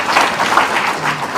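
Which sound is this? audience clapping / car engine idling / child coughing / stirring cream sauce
audience clapping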